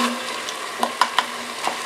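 Garlic added to softened onions sizzles in a pan, a steady close frying hiss with a few sharp clinks and scrapes of a utensil against the pan, no talking.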